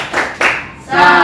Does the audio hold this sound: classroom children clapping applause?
yes